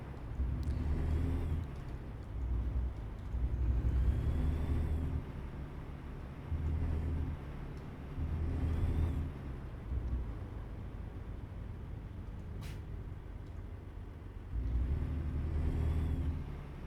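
A heavy truck engine in American Truck Simulator rumbles low and steady, swelling in repeated surges of revving every few seconds, close and continuous with no talk.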